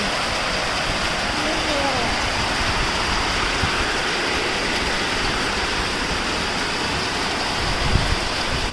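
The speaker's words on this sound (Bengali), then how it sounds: "ভিজে গেল, দেখেছো কত বৃষ্টি।" Heavy rain pours down in a dense, unbroken wash of noise that stays at an even, fairly loud level throughout.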